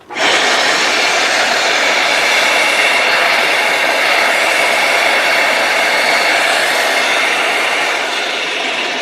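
A Hoover PowerScrub XL pet carpet cleaner runs steadily with strong suction, a loud, constant rushing whine of air holding level throughout with no pauses.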